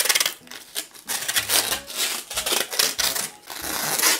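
Adhesive tape being pulled and pressed onto LEGO pieces during a build, giving repeated close crackly peeling and rubbing bursts with short sticky tears, busy and fairly loud, no talk.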